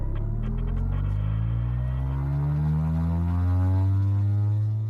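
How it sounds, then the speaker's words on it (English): Propeller of a JS3 RES electric self-launching motor glider, a loud steady droning hum with strong tonal harmonics that slowly rise and fall in pitch as the prop runs up, heard close and alone. "The electric motor doesn't make much noise, but the prop does"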